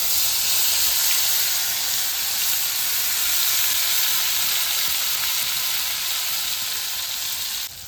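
Steady, loud sizzling of mustard pabda fish frying in oil on a village clay stove as tomato goes in, a continuous bright hiss with no voices, easing slightly at the very end.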